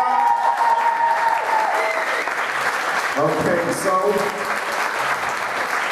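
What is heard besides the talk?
audience applause and hand clapping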